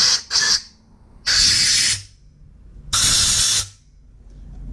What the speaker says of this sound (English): Let's use a little compressed air